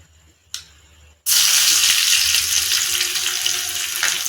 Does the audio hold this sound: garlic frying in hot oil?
yes